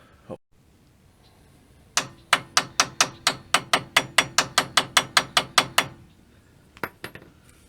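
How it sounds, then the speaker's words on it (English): A brief sharp knock, a pause, then a long steady series of about seventeen loud metallic hammer blows at an even rhythm driving a vehicle drag link part in, followed by a couple of lighter taps. "just a couple of hits with a hammer and it went in pretty nice"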